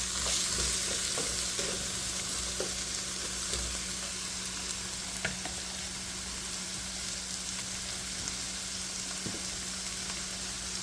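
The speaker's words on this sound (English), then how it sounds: "I'm going to stir again." Potatoes and cabbage sizzle steadily in a frying pan while being stirred, the constant crackling broken by occasional scraping and clinking, with no talking.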